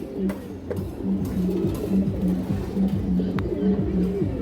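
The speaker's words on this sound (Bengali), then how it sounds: "এই সিলভার বাঘা মাদিরা দর্শক মাত্র 750 টাকা পাবো দর্শক" Several silver Bagha female pigeons coo in steady rolling low phrases close by, the calls repeating continuously with faint background noise and no clear speech.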